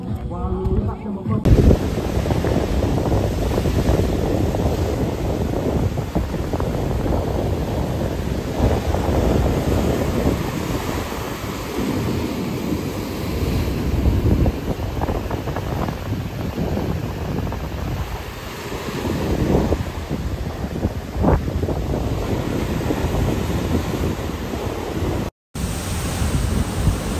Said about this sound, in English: Look at all these waves.